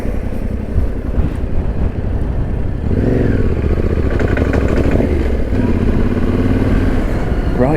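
A Yamaha T7 motorcycle loaded with luggage rides through the Norfolk countryside, its engine droning close and loud, then revving up and shifting pitch as it accelerates, with wind and rattling clatter mixed in.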